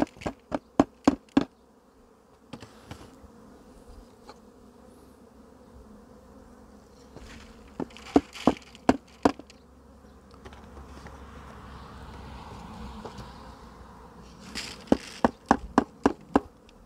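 Honey bees hum steadily around a hive, the buzz rising and falling, punctuated by several sharp knocks and taps on wood.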